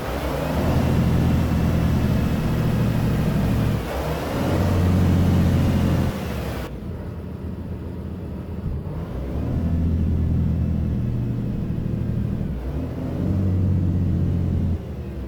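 Heavy diesel rumble of a 2018 Volvo VNL truck engine braking in American Truck Simulator, loud and steady with low droning pulses that swell and ease in several long waves, no talking.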